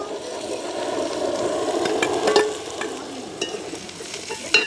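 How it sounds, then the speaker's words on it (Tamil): Sliced carrot is stirred into onion and green chili frying in a pan, giving a steady close sizzle with scraping stir strokes and spoon clinks throughout, no talking. "நல்ல வடிவாக பிராட்டி விடுவோம்"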